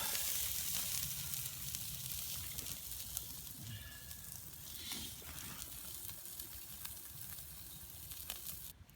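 Extra thick sliced bacon sizzling on a grill at an outdoor camp, a quiet continuous crackle and hiss heard close up with small pops.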